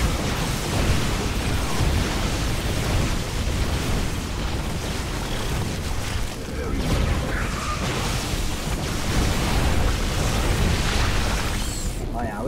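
Explosions destroying a base in a StarCraft II match against the computer, dense rumbling booms and bursts layered continuously, loud and heavy, mixed with game effects.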